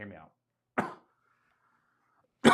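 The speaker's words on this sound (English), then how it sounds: "Let me clear my throat." A few short, raspy throat-clearing bursts separated by silence, close to the microphone, the last one louder.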